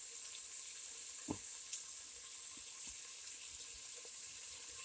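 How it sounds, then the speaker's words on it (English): Bacon frying in a soup pot for leek and potato soup, a steady, fairly faint sizzle with a few soft clinks and stirring knocks, and no talking. "So we're going to get this bacon browned up about 5 minutes"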